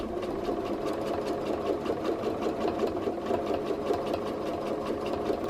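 A home sewing machine runs steadily while stitching a free motion quilt, its fast mechanical needle hum and rapid chatter continuing unbroken and close, with no voices.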